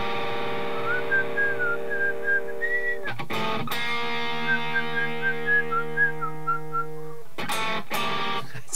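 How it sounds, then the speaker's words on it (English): A person whistles a melody over sustained chords on an electric guitar run through effects, with a distorted, chorus-washed tone and reverb; bursts of strummed guitar break in between the whistled phrases. "I can't whistle and play at the same time"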